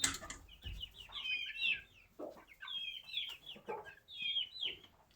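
Hens and chicks cluck and peep in a farmyard, a steady run of high chirps and low clucks rising and falling throughout, fairly close, with no talk over them.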